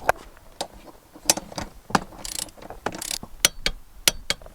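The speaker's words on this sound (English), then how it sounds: "we're going to take our torque wrench, take off the 14 millimeter" A torque wrench clicks and ratchets while tightening bolts on a Lexus GX460, giving a series of sharp, close metallic ticks in an irregular rhythm with no talking.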